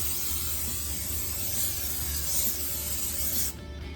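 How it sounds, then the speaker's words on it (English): Cooking spray hissing steadily from a can onto a springform pan for a few seconds, then cutting off abruptly near the end. "I'm just going to spray the springform pan all over"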